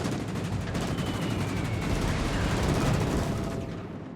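Dive bomber bombs strike a ship in World of Warships: Legends, loud rapid-fire blasts and crackling explosions rolling together over a few seconds, then tapering off, with no voices.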